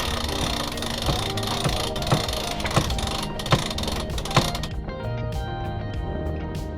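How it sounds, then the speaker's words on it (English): A sailboat winch is cranked aboard while sailing off Sardinia's south coast, giving a run of evenly spaced ratchet clicks over steady boat and wind noise, then the cranking stops and a quieter hum remains. "Winch!"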